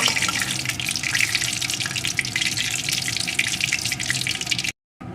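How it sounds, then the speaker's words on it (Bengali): A dried red chili fries in hot oil in a wok, giving a steady, bright crackling sizzle that runs unbroken and fairly close, with no talking. "এখন এর ভিতরে দিয়ে দেবো একটা শুকনো লঙ্কা লঙ্কাটাকে একটু ভেজে নেব"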